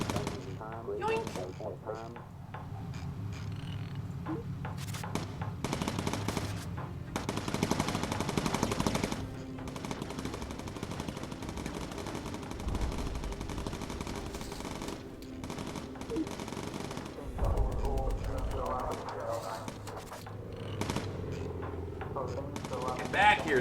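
Machine-gun bursts from a bomber gunner's turret in the Bomber Crew video game, heavy sustained rattling fire through most of the stretch with brief pauses, loud and close, with talk heard over it.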